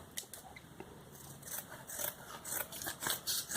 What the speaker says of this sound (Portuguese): O que eu já vi que tá maior, vou cortar também, acertando